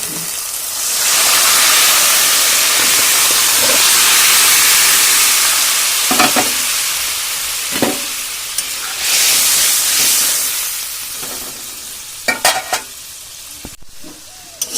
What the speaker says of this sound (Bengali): 1 মিনিট হয়ে গেছে, এই তরকারিটা এর মধ্যে অ্যাড করে দেবো